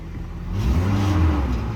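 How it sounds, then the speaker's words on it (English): A Toyota Tacoma pickup with a 2.7L 3RZ four-cylinder, check engine light on and a poor exhaust, runs close by with a steady low rumble that swells slightly midway as if lightly revved. "that exhaust is not great either"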